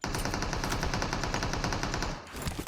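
Rapid automatic gunfire in the mobile shooter PUBG Mobile, a dense unbroken burst of loud close shots for about two seconds before cutting off, then a brief softer echoing tail.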